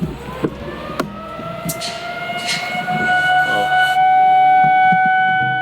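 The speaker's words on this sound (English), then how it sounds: "we were first alarmed by the siren" A loud, steady siren in Japan wails continuously, its tones holding and swelling slightly, with no talking.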